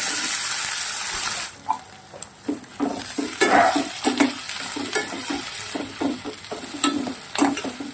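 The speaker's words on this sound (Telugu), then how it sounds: "ఇలా ఫస్ట్ ఆయిల్లో ఫ్రై చేసుకోవాలి ఎండ్రాయిల్ని." Cleaned prawns fry in hot oil for a gongura prawn dish with a soft sizzling hiss. Frequent scraping stirs and metallic taps of a spatula against the pan punctuate the sizzle, which is close and moderately loud.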